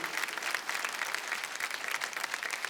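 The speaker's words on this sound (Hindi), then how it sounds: "जोरदार तालियां हो जाएं।" A studio audience at a folk singing reality show claps loudly and steadily, a dense, continuous burst of applause with no voices over it.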